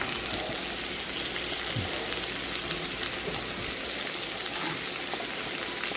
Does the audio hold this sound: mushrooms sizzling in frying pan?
yes